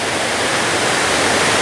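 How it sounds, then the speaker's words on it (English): Dabanggre three-tier waterfall in West Garo Hills, Meghalaya, roars as a loud, dense, unbroken wash of falling water, steady throughout with no other sounds. "this is the view of the Dabanggre Waterfall, and it's a very long waterfall here"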